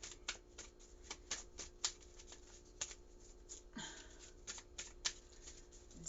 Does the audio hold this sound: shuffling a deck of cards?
yes